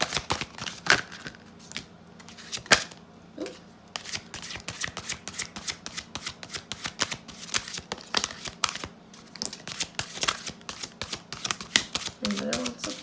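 Tarot cards shuffled by hand, a dense run of quick crisp riffles and slaps over about thirteen seconds, close and moderately loud, with a faint voice murmuring now and then.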